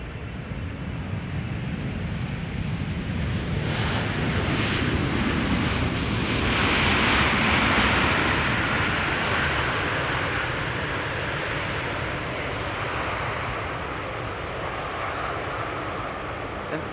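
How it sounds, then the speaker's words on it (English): KLM Boeing 777-300 airliner on arrival at Amsterdam Schiphol, a steady broad jet roar that swells toward the middle and eases off, loud and continuous throughout with wind noise. "This is KLM Flight 792 arriving from Sao Paulo"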